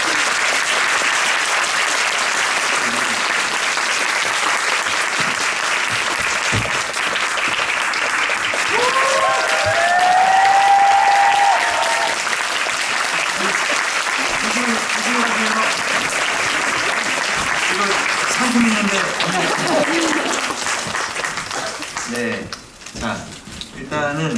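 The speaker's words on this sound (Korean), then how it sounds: "여러분 박수를 좀맞려주세요" Loud, dense applause from a musical theater audience at the closing performance of the Korean musical Maybe Happy Ending, with cheers rising in the middle and a voice speaking over it before the clapping thins out near the end.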